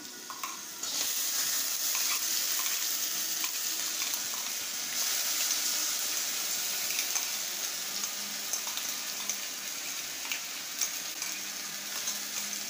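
Onions and spices fry in a pan with a continuous loud sizzle and hiss, steady throughout with occasional faint clinks of stirring.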